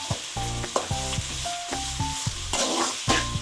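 Onions sautéing with salt in a pan for a South Indian fish curry (meen kulambu), a steady close sizzle broken by repeated clunks and scrapes of a stirring spoon, no voices.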